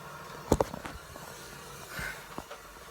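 A Nerf Rival Helios blaster fires with one sharp, close snap followed by quick rattling mechanical clicks, then a softer clunk and faint handling noise in a quiet room.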